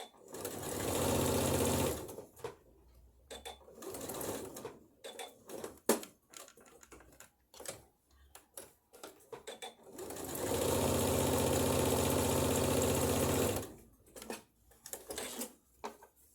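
A sewing machine stitches a bodice ruffle in two sustained runs of fast, even whirring and clatter, separated by quieter stretches of scattered handling clicks and fabric noises, all heard close up.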